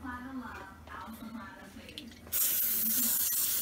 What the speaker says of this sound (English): So we're gonna get the Pam spray.